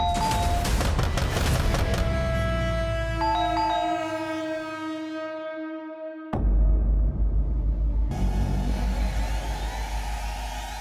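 Ringing, droning tones fade before a sudden sharp blast bursts in, followed by a deep, heavy rumble that lingers to the end.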